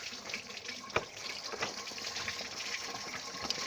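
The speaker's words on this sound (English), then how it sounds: "Let this sucker drain out all the way." Rusty water drains out of a Chevy truck radiator in a steady splashing, gushing stream, close and continuous, with faint knocks now and then.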